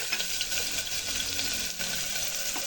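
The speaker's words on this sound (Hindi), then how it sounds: "इधर ये तेल गरम हो गया, जीरा डाल दिया मैंने, और ये डाल दिया मैंने प्याज।" Onion and cumin seeds sizzle in hot oil, a steady, close crackling hiss that runs through the whole stretch with no talking.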